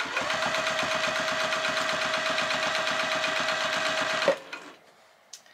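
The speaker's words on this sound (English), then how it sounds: "I just do a straight stitch down the center" A sewing machine runs a steady straight stitch along a tote bag, its fast even rattle droning close for about four seconds before stopping abruptly, followed by a few small handling clicks.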